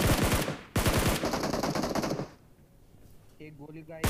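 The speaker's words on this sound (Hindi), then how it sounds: "अब मैं इसको धीरे धीरे कवर फायर दे रहा हूँ ताकि ये पीछे आ जाए" Automatic gunfire laying down cover fire in a battle royale shooter game: loud, close rapid bursts in two long volleys, followed by quieter game effects and a short electronic tone.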